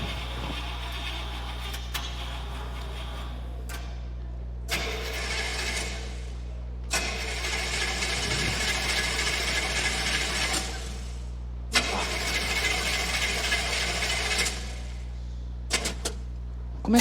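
A car engine struggles and fails to start: repeated bursts of harsh, mechanical cranking separated by short pauses, heard over a steady low hum, with no one talking.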